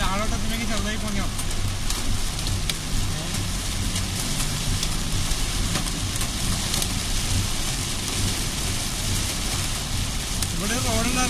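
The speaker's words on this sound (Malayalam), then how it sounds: "എത്ര ആലിപ്പഴം വീണ് നോക്കിയാ" Heavy rain and hail pound steadily on a car during a Dubai storm, a dense, loud roar with a low engine hum beneath. People speak over the downpour.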